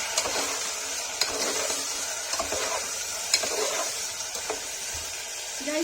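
Kashmiri peas and potato curry is roasted in a pan, with steady sizzling under repeated scrapes and knocks of a spoon as it is stirred, close and fairly loud throughout.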